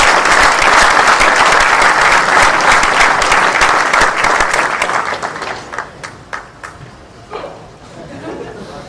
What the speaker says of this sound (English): One more round of applause for the team for the Hearst Corporation